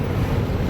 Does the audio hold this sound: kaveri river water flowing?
yes